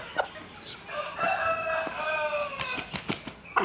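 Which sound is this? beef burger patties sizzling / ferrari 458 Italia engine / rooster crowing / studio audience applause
rooster crowing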